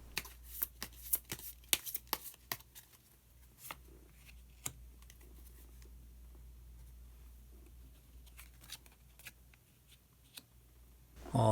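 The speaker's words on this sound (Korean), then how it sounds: "마법사 카드를 한 장 더 뽑아보도록 하겠습니다" Tarot cards are shuffled and drawn by hand: quick papery flicks and taps cluster at the start, fade to a quiet stretch of soft handling, then pick up again near the end, all close and faint.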